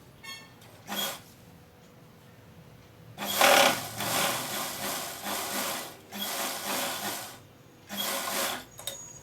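Sewing machine stitching the cuff of a ladies' coat, running in several loud close bursts of a few seconds each with brief pauses between, preceded by a short faint whir.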